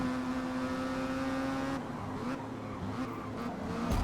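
Honda Civic race cars in Forza Motorsport braking hard into a turn, a steady near engine drone with harmonic whine that drops in pitch midway as the cars slow, with faint tire scrub.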